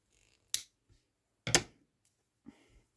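Scissors snip through wool yarn while making a pompom chick, two crisp close cuts followed by a fainter third, quiet with small handling sounds between.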